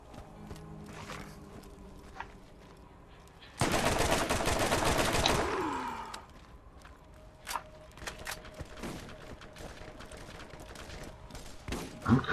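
Submachine gun fire in the video game Borderlands, a loud dense burst of rapid shots lasting about two seconds, with scattered game effects and footsteps before and after.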